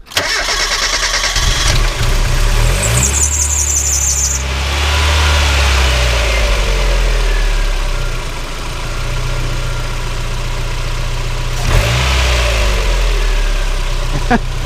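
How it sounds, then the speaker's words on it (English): A 1993 Mazda Miata 1.8 engine, with its idle air control unplugged, cranks and catches, then settles into a steady low idle, with a brief rev partway through. Loud and close, no talking. "Let's go ahead and turn the car on, see what happens without the idle air control."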